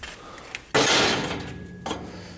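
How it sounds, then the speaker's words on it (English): A hammer strikes a steel weld on a shop table under fabrication, two sharp close metallic blows, the first loud with a ringing tail and the second softer, no talking. "I'm hitting on that weld right"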